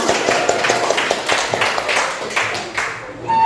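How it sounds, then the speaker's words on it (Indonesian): A classroom group claps together for everyone, a steady run of sharp hand claps mixed with voices of students and teacher throughout. "Tepuk tangan untuk kita semua"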